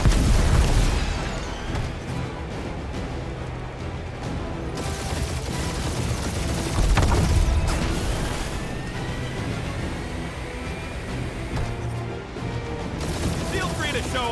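Ship gunfire and explosions roar through a space battle in the 2021 video game Marvel's Guardians of the Galaxy, forming a dense, continuous wall of blasts and booms with louder bursts near the start and middle.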